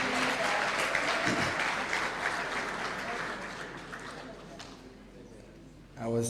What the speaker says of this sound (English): we can give her another round of applause